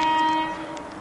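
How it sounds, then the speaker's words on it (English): A train horn sounds with a steady tonal blast over rumbling rail noise, the sound fading slightly as it continues. "A train's coming."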